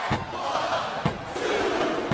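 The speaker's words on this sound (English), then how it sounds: "I'm not sure I agree with what the crowd is chanting" Crowd chanting in a WWE SmackDown vs Raw 2007 women's championship wrestling match, a steady dense roar of many voices with brief slam-like thumps cutting through.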